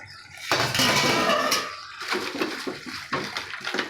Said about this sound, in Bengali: এবার ফুটে গেছে, আমি এবারে ডালের বড়াটা দিয়ে দেবো।